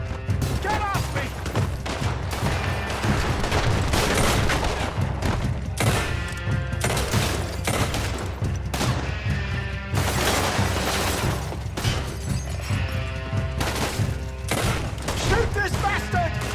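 Rapid gunfire in Red Dead Redemption 2 rattles loudly and almost continuously, with dense bursts of shots and impacts, and in-game characters shouting under the shooting.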